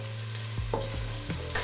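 Onion, garlic, ginger and chili frying in oil over medium heat, a soft steady sizzle with a few spoon scrapes as the pan is stirred; no talking.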